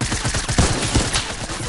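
Rapid SMG gunfire from the Fortnite video game rattles in a fast continuous burst, dense and loud throughout with no pauses or talk.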